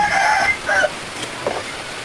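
Chickens cluck and squawk nearby in a few short outbursts as chickens and ducks roam about, with quiet outdoor background between the calls.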